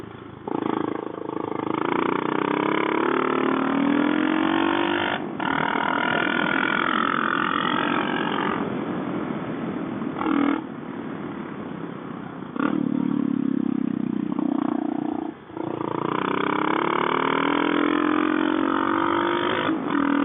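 A Suzuki DR650 motorcycle fitted with a Mikuni carburetor roars loudly while riding, its engine note steady and close, rising and falling with throttle and gear changes, with short dips between pulls.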